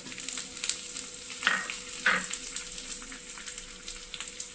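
Sliced onions and curry leaves sizzle and crackle in hot oil in a pan for a coconut milk fish curry, a close, steady frying hiss with a couple of brief stirring scrapes.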